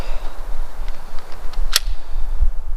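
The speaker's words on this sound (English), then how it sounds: "3 shots right at the target" At a shooting range, one sharp, crisp gunshot cracks out at a target amid faint background noise, with a couple of softer ticks around it.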